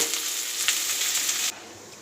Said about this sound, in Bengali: দেখো কড়াইতে তেল ফোড়ন দিয়ে আর এই পেঁয়াজ দিয়ে দিয়েছি